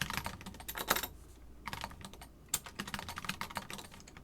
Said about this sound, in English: I'm typing in front of a crowd